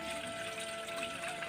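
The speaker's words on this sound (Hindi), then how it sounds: "तो मैं पानी डाल दूँ 1 गिलास" A glass of water pours into a pot for making tea, a steady, faint rushing splash that runs unbroken throughout, with no voices.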